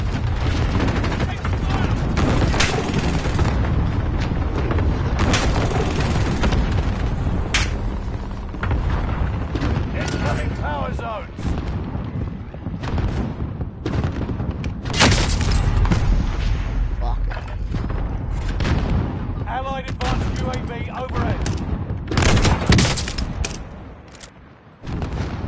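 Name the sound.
airstrike explosions and gunfire in Call of Duty Warzone video game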